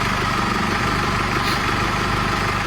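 Engine of a used vehicle being inspected before purchase idles steadily and close, a continuous low rumble with a faint mechanical hum and no talk.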